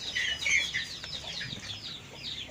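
Thai fighting roosters on a farm cluck and chatter in a quick, faint run of calls, with soft rustling and a couple of light knocks beneath.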